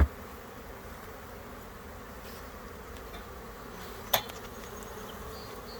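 Honey bees hum around stacked hive boxes in a soft, continuous buzz heard close by, with a brief sharp knock partway through.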